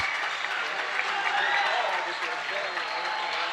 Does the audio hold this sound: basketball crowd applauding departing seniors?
yes